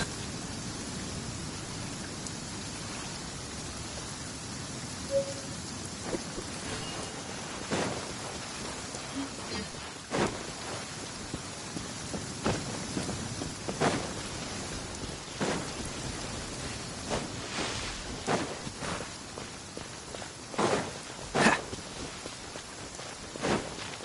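Steady rain hisses throughout in the video game Genshin Impact, with sharp scattered taps and clicks breaking through at irregular moments.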